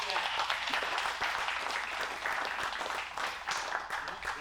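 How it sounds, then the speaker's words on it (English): Audience applause for volunteers in a large warehouse space, a steady wash of many hands clapping that carries through the whole stretch. "So please give them a round of applause."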